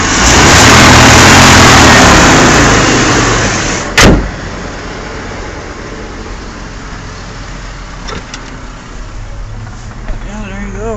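A Ford F-150 pickup engine runs loud and steady at close range, with a sharp knock near the four-second mark that could be a misfire or a door, then settles to a quieter idle while people talk nearby.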